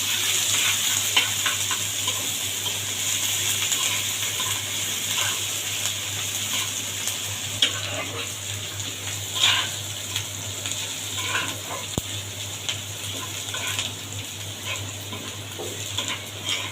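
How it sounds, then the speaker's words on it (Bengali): Garlic and bay leaves sizzle in hot oil for a tempering, a steady close hiss with scattered pops and crackles and a constant low hum beneath, and no talk. "এখন আমি বেশি করে রসুন তেলপাত দিয়ে দিলাম"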